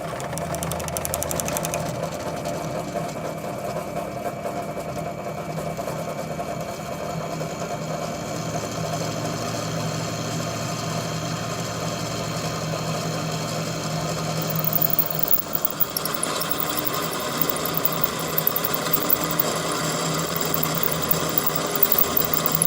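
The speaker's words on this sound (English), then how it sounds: "Let's get drilling." A power drill bores a hole in steel stock while making a blacksmith's rivet tool, giving a steady, loud mechanical whir with a constant buzzing hum that runs without pause, roughening and rattling near the end.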